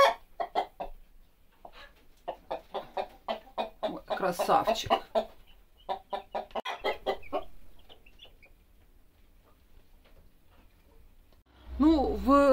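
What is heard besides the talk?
rooster and chickens clucking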